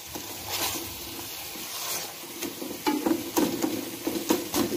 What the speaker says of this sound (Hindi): साथ ये पक रहा है तो साथ साथ हम इसको मैश कर रहे हैं